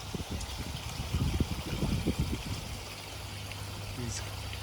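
Water from a hose or pipe pours and trickles steadily into a raised outdoor koi pond as it is topped up, with a low constant hum running underneath.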